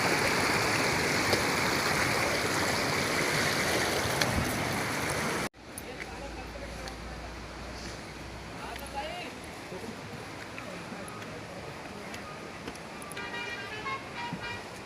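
Cold, white mountain river and stream in hilly country along a route toward Jammu, rushing as a steady loud broadband roar that continues throughout, dropping somewhat in level partway through with faint distant traffic noise beneath.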